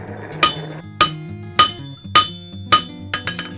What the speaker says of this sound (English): when you hammer the blade out